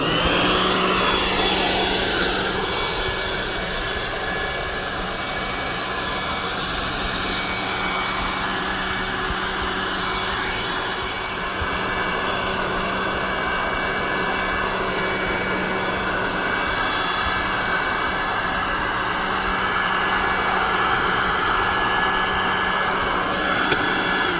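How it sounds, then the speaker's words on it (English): A leaf blower clears leaves off a residential driveway with a continuous loud, steady roaring whoosh of air that holds nearly unchanged for over twenty seconds, close by and with no voices. "And out comes all that air to blow away the leaves."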